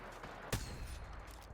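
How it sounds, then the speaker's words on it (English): A single sharp gunshot cracks out early, followed by a steady rumbling ambient bed of game background noise. "he's noticing where the gunfire is coming from"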